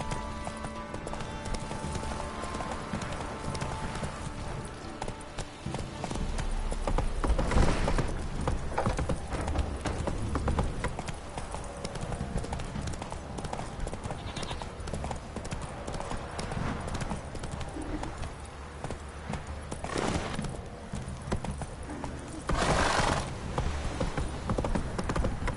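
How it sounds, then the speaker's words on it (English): Horse hooves clip-clop steadily in the Witcher 3 video game, a continuous rhythmic trotting beat with a few louder bursts over a game soundscape. "Time to water the horses."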